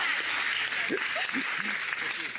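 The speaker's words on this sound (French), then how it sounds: "Il faudrait qu'on applaudisse très fort" A studio audience applauding on a French dating show, a faint steady wash of clapping heard somewhat distant, with scattered voice fragments cutting through.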